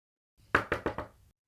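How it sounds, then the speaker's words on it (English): Knuckles knocking on a window in four quick, sharp raps, close and crisp, with no voices. "Clearly, she knocked on the window,"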